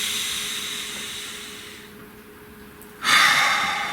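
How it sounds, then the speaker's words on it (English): A long slow intake of breath slides into a quiet pause, then a loud breathy exhale bursts out close to the mic near the end. "Nice deep breath."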